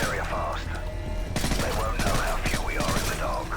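Call of Duty Modern Warfare 3 firefight: rapid bursts of automatic fire crackle over sustained combat noise, with shouting voices woven through the shooting.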